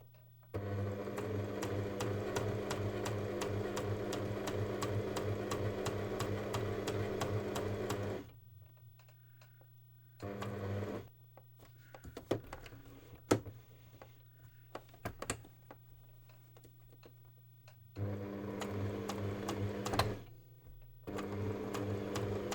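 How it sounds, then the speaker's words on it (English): A sewing machine stitches a narrow 1/8 inch seam on bias-cut fabric, running steadily in a few close bursts with rhythmic mechanical whirring, broken by pauses and short restarts. "I'm also sewing 1/8 of an inch seam on the bias"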